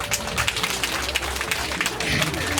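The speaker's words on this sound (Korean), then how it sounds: "박수 한번 주세요" Audience at an outdoor anchovy festival performance clapping, a steady busy patter of many hands mixed with crowd noise and voices throughout the short stretch.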